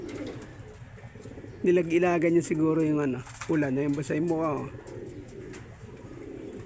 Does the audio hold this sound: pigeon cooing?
yes